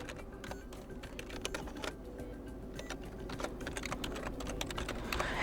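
Rapid, quiet clatter of keys as an email address is typed on a computer keyboard, an uneven run of light taps over a low steady background hum.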